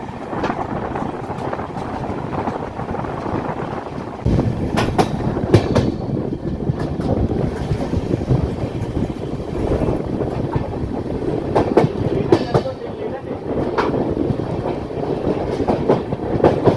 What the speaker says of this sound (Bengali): এখন ট্রেনটি মোটামুটি স্লো চলছে।